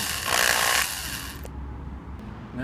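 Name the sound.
power drill drilling hole in Ford Focus door latch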